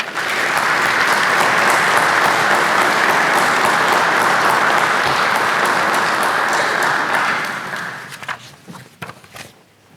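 Audience applause after a speech at a community appearance awards ceremony in Winston-Salem, a dense sustained clapping from a large crowd that fades out over the last two seconds into a few scattered claps.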